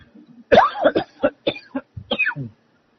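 A man coughs close up during a religious talk, a rapid burst of several harsh coughs from a seasonal cough, then clears his throat before falling quiet.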